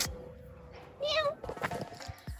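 A cat gives a single clear meow near a home while people chat quietly nearby, followed by shuffling and rustling sounds.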